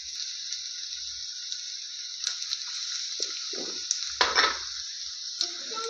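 Onion and carrot sautéing in a pan for rava upma give a constant high sizzling hiss, with a few soft stirring scrapes and squishes near the end.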